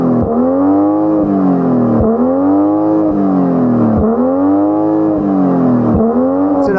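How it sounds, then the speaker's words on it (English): BMW M240i six-cylinder engine revved repeatedly while the car stands still, about four rising-and-falling rev cycles in steady rhythm, loud and close with a smooth droning tone and no talk. "you don't get to fully enjoy the sound that this 6-cylinder engine can make. So go on, rev it up"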